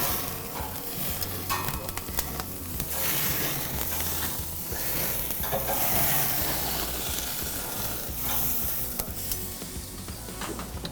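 Beef sizzles loudly on a summer barbecue grill, a dense continuous crackling hiss with scattered pops and scraping stir sounds running throughout, close and with no voices.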